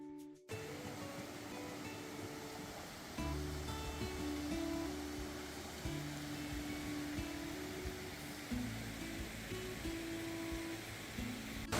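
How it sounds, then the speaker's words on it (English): Steady, broad roar of an 80-foot waterfall at Thoreau Falls in the White Mountains, a continuous rushing wash heard close and unbroken for the whole stretch, with no talking. "This is an 80-foot waterfall"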